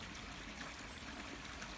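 Water running steadily from old piping in Toronto, a continuous splashing trickle at close range with no pauses and no voices.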